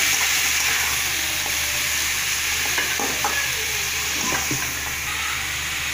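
Cubed pumpkin frying in a pan with turmeric powder and salt for a Tamil poriyal, giving a steady close sizzle with occasional scraping stirs and no talk.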